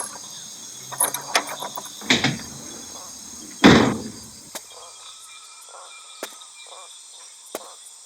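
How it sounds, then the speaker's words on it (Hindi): A door is opened in a dubbed Nepali horror film: several soft clicks and rattles of the handle and mechanism, then a louder scrape and thud as it swings, with faint ticks afterward over quiet background hiss. "मैं चल के दरवाजा खोलता हूँ।"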